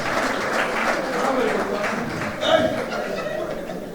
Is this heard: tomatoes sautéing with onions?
no